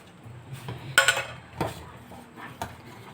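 A spoon stirring jaggery into urad dal milk in a metal pot gives a few close clinks and scrapes against the sides, short and uneven, fairly quiet, with no voices.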